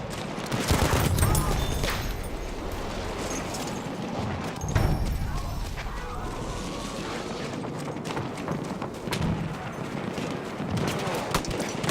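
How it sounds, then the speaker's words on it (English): Battlefield 1 battle scene with rattling gunfire bursts and distant booms in a dense, noisy mix, sustained for the whole stretch, with brief voices over it. "Feindliches MG!"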